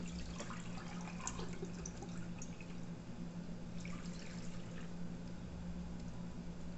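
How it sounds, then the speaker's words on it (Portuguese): Water poured from a small glass onto clay pebbles around a potted peace lily, giving a soft, continuous trickle with faint drips, quiet and close, with no talking. "Vamos colocar água nela"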